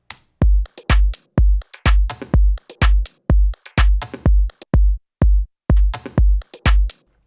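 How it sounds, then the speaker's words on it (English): A steady, booming kick synthesized in Native Instruments FM8 pounds on every beat beneath a busy drum loop of crisp hi-hats and snappy snares, repeating evenly throughout. "our little homemade kick over this drum loop now sounds like this."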